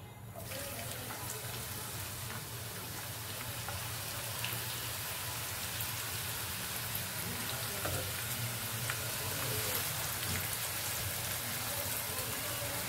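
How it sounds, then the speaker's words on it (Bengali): Onions frying in hot oil in a wok for chicken biryani, a steady broadband sizzle running throughout with faint stirring scrapes, fairly close and unbroken, no voices. "পেঁয়াজটা ভালো করে নাড়িয়ে ভেজে নিতে হবে"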